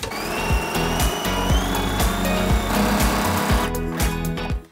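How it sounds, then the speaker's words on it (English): Sewing machine stitching a straight quarter-inch seam on an economy quilt block, a steady loud motor hum with rapid needle clatter running continuously before stopping abruptly near the end. "So I'm going to stitch just a 1/4 inch seam along this entire straight side."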